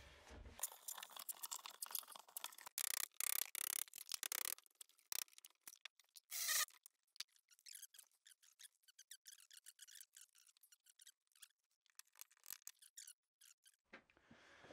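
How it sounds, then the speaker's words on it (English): Tape being pulled and torn to cover an opening in a bathroom wall, with loud ripping bursts and crinkling up close, followed by quieter intermittent rubbing and pressing of the tape. "I'm just gonna tape this up."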